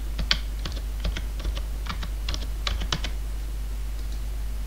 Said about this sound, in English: now enter password